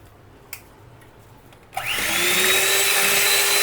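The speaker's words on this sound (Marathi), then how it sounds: "अशा प्रकारे याला ब्लेंड करून घ्यायचं जेणेकरून याच्यामध्ये एअर राहील आणि याचा व्हॉल्यूम वाढेल." An electric blender switches on and whirs steadily as it whips cream for chocolate ice cream, loud and close, with a high whining motor tone after a brief quiet lead-in with a couple of small clicks.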